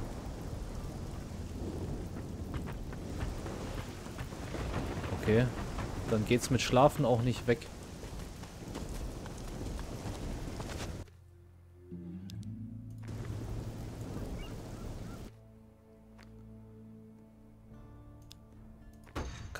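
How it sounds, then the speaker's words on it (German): Steady rain falls with rumbling thunder in the pirate-adventure video game Risen 2: Dark Waters, a continuous wash that cuts out briefly and returns, with someone talking over it. "Es regnet immer noch."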